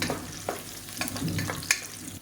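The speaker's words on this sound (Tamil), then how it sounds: "இப்போ எண்ணெயிலே நல்லா வதக்கி விட்டுக்கலாம் அப்போ தான் அந்த பச்சை வாசனை போகும்" Radish, onion and green chilies sautéing in hot oil, a steady close sizzle with a few soft spoon scrapes and knocks as the pieces are stirred, no voices.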